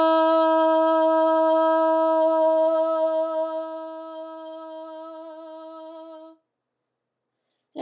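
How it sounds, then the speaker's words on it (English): A loud, clear sustained "ah" vowel held as a voice exercise, one steady tone lasting about six seconds, fading slightly before it stops, followed by silence. "we are going to do our loud ah for 10 seconds"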